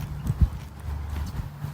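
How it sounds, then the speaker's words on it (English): Hooves of Jack, a horse, clip-clop in a few uneven, close-up knocks, one louder thud standing out among softer steps against quiet outdoor background. "or the horses and the ponies"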